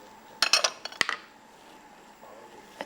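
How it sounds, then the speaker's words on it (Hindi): A metal spoon set down on a kitchen counter while cooking Hyderabadi qubooli: a few quick close clinks and taps in a short cluster, then quiet, with one faint clink at the end. "एक ये चम्मच हम यहाँ पे रख लेते हैं"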